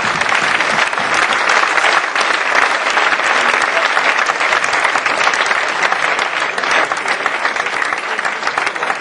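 Dense, continuous applause from an audience greeting new Olympique Lyonnais football jerseys, loud and even throughout with no pauses.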